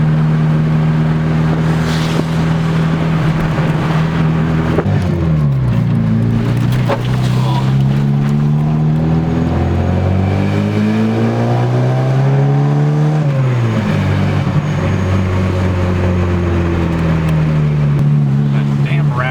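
A supercharged car engine idles and revs with an exhaust rattle, loud and close, its pitch rising and falling through several revs.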